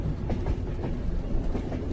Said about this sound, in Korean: 밤을 달리는 시베리아 횡단열차